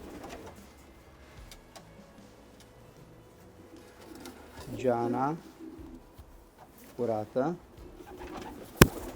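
Breeding pigeons coo in two short rising bursts during a veterinary health check, close and moderately loud, with a faint low hum and a brief voice between them, ending on a sharp click.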